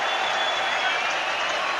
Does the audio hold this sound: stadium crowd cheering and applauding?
yes